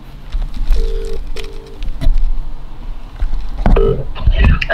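A telephone rings for an incoming call, two short electronic ring bursts close together near the start and a third a few seconds later, over low background rumble and movement noise.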